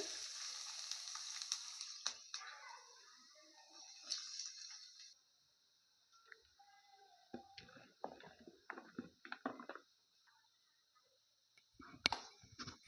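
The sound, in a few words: bitter gourd frying in sesame oil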